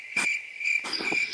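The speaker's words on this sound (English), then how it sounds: "We got some crickets or something?" Crickets chirp in a quiet setting, several bursts of steady high trilling repeating with short gaps, fairly soft and with no voices.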